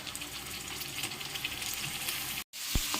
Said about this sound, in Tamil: இப்போ இந்த வெங்காயத்தோட நம்ம மஞ்சள் உப்பு போட்டு அலசி வச்ச சிக்கனை சேர்த்துக்கிறோம்.